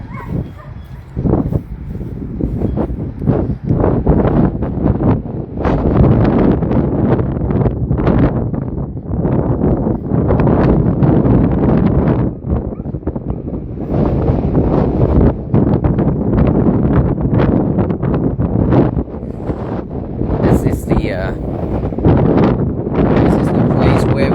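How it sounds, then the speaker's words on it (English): Strong wind at an outdoor Buddhist temple gathering buffets the microphone in continuous gusty rumbles, with a dog barking and a person talking intermittently underneath. "And these days are very windy."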